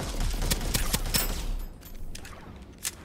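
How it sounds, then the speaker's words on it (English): Rapid gunfire in the Starsiege Deadzone video game, a cluster of sharp close shots in the first second and a half, then quieter scattered pops and one last crack near the end. "Shots to my right."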